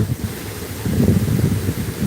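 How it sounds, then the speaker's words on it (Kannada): Gusty wind by a river buffets the microphone, a low, uneven rumble that swells and fades in bursts. "ಗಾಳಿ ಜೋರು ಇದೆ"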